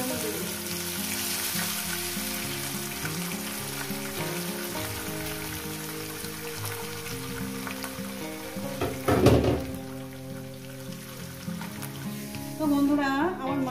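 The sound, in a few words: fish frying in hot oil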